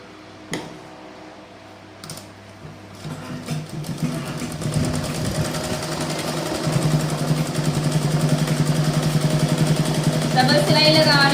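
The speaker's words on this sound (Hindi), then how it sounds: "डबल सिलाई लगा रही हूँ मैं इधर" A sewing machine running a double stitch on a blouse. A few separate clicks come first, then the motor builds into a fast, steady, close mechanical chatter that keeps going to the end.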